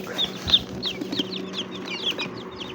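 Newly hatched chicks in a manual incubator give a busy run of high, thin peeping chirps, close and moderately loud over a faint background hum.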